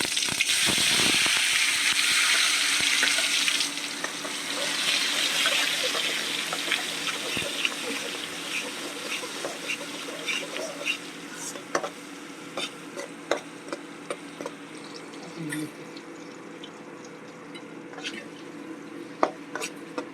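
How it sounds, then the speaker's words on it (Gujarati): A loud burst of sizzling as tomatoes and asafoetida hit hot oil, easing into a steady crackle with scattered pops and spatters over the following seconds. "તો આપણે હિંગ મૂકી અને ટમેટાનો વઘાર પહેલાં મારી દઈશું."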